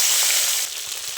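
Potato pieces frying in oil in a wok make a brief bright sizzle that drops to a softer crackle halfway through, close and without speech.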